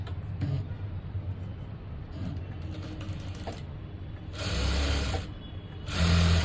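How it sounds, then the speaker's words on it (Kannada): A sewing machine stitches the back of a blouse in two short whirring runs, the second louder and closer, separated by quieter rustling and handling of the fabric. "ಪಟ್ಟಿ ಮಾಡಿಕೊಂಡು ನೀಟಾಗಿ ಈ ರೀತಿ ಸ್ಟಿಚ್ ಮಾಡ್ಕೊಂಬಿಡಿ"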